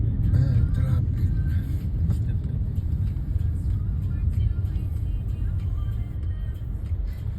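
Continuous street traffic drones on, a dense low rumble of cars and larger vehicles with faint background voices mixed in.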